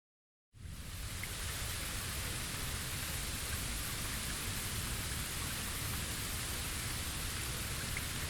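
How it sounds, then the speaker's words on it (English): Steady rain pours continuously in the video game Bleach Rebirth of Souls, a dense, even hiss of falling water that starts abruptly after a brief silence and holds at constant loudness with no voices. "Looks like the rain has stopped."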